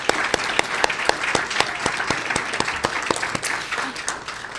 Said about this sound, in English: Another round of applause for the mayor.